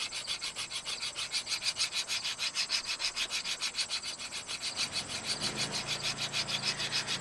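A steel broadhead is steadily rubbed across a sharpening surface in rapid, even back-and-forth strokes, close and fairly loud, with a faint lower hum joining near the end.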